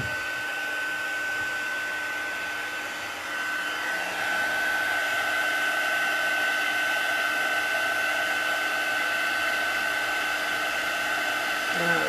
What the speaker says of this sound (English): back in with the heat tool.